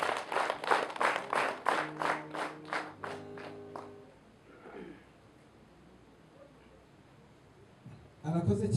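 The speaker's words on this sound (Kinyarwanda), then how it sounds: "Ngo mumumire amashyi." Wedding guests clap together in a loud burst of rhythmic applause that thins out and fades, leaving a quiet stretch before a voice and noise return at the end.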